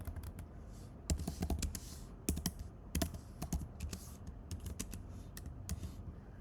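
Keys clack on a computer keyboard as an SQL query is typed, in irregular bursts of close, crisp clicks with short pauses between runs.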